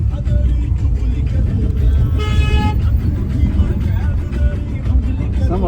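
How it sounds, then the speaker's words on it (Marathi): Heavy, congested road traffic near a stretch under roadwork, with a loud continuous engine rumble and a sustained car horn blast partway through, heard up close. "त्या रोडला ना एवढी गर्दी ट्रॅफिक आहे ना, काम चालू आहे रोडचं"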